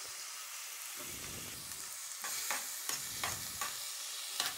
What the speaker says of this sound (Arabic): حطيت شويه زيت عشان نحط البصل والفلفل على الزيت